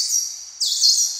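A rescue dolphin's piercing, high-pitched whistle holds steady, then sweeps and warbles after a brief break; loud and close, with no other sounds around it.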